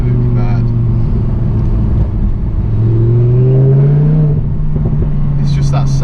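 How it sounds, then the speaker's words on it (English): A Lamborghini Huracan exhaust while accelerating, a loud low engine drone rising in pitch as revs climb, heard from inside the car with brief voices near the start and end. "It's just that sound. That exhaust system's awesome."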